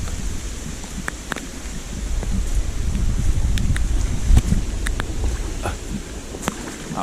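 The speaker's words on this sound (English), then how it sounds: "rain coming hard." Heavy rain and gusting wind buffet a small kayak fitted with a 2 hp motor out on the water off Chaguaramas, a steady broadband roar with scattered sharper gusts and rattles, loud and close throughout.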